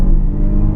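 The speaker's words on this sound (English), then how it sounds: "I'm going to give it a little bit of brake torquing and just let it go." Turbocharged SUV, one of a 2014 Infiniti QX80, Range Rover Sport, Toyota Highlander or Dodge Durango, pulling hard off a brake-torque launch with 340 horsepower: a loud, steady low engine roar and rumble close by, no talk.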